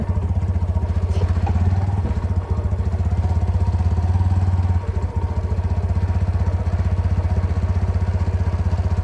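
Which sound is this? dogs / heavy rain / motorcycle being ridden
motorcycle being ridden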